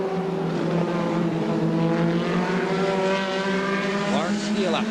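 Escort twin cab race cars at Pukekohe circuit screaming past, engines revving hard and shifting pitch in a loud continuous roar with a commentator talking over it.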